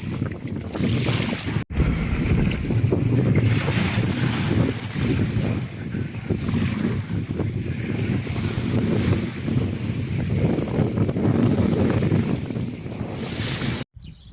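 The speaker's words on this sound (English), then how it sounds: "The wind is picking up, and there's the waves behind me" Strong wind roars and buffets the microphone on a seaside cliff top, with breaking waves rumbling beneath it in a steady, loud wash that lasts throughout.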